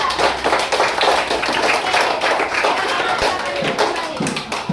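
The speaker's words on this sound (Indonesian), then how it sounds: "tepuk tangan untuk teman kita." A classroom of students claps for a classmate, dense brisk hand-clapping that holds steady and fills the room for the whole stretch.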